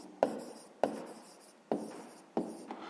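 A pen scratches across paper, writing out a math answer in four short, crisp bursts, each starting with a sharp tap, close and quiet in a still room.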